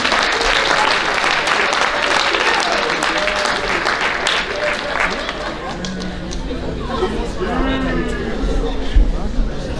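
A large audience applauds runners at a high school athletic banquet, with steady loud clapping that gradually thins while a voice speaks over the crowd near the end.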